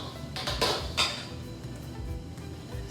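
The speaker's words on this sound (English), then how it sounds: "a potato masher? Just gonna mash it." Cooked bananas being mashed with a potato masher in a bowl, giving a few clinking knocks of metal against dish over soft squishing, close and moderately loud.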